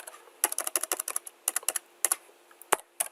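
Code being typed on a computer keyboard during a programming lecture, with quick bursts of close, crisp key clicks separated by short pauses.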